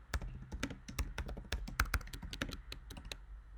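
Typing on a computer keyboard while working in a Jupyter notebook: rapid, uneven clicks and key taps, close and clear, with no talking.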